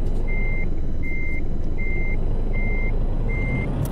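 A Freightliner Classic FLD120 truck in Euro Truck Simulator 2 reverses with five steady, evenly spaced beeps over a constant loud engine rumble.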